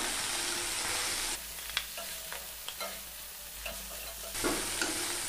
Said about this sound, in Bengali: চিংড়ি মাছগুলোকে আমি হালকা ভেজে নিয়েছি।